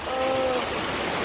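Rushing waterfall heard up close, a loud steady broadband roar of falling water with a faint brief tone near the start.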